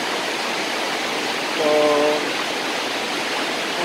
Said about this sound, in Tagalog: Nandito ngayon tayo sa Tatalon Falls.